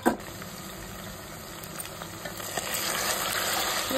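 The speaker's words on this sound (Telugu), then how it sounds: "ఈ నీటిలోనే మంచిగా బాయిల్ అవ్వనివ్వండి।" Chopped onion cooking down in water in a pot for a mutton and potato curry, giving a steady bubbling sizzle that grows slightly louder toward the end, with a brief clatter at the start.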